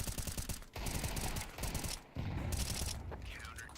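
Pistol gunfire in a Counter-Strike esports match crackles in rapid, dense bursts with brief pauses, loud and continuous, while a caster talks over the action.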